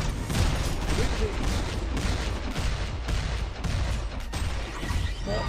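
Gunfire from a shooter video game played in Diamond rank normal mode, a dense, steady clatter of shots and blasts that runs without pause and sits loud and close throughout.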